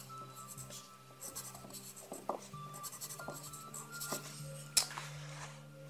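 Pen scratching across a paper character sheet for a tabletop role-playing game, a close, steady series of short strokes with a few louder taps near the end.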